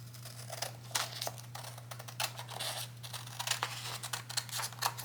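Paper scissors snipping through a printed PDF sewing pattern, a quick run of crisp close cuts over a steady low electrical hum.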